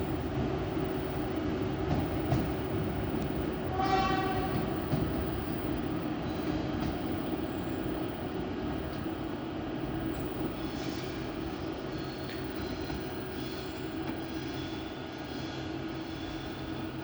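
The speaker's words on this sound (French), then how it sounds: "Train marchandise en voie B." A freight train rolls through a French railway station platform on track B, a loud sustained rumble and clatter of wagons continuing steadily with faint squeals and no voices.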